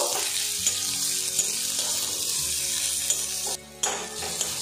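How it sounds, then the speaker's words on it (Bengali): Onion and garlic frying in a pan for a green tomato dish, a continuous close sizzle with faint watery crackle and a few small knocks, broken by one brief dip partway through. "এদিকে দেখুন পেঁয়াজ আর রসুনটা কিন্তু বেশ ভাজা ভাজা হয়ে গেছে"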